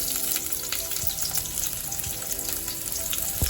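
Onions frying in hot oil until golden for Telangana bagara rice, a steady close crackling sizzle with scattered pops and no talk.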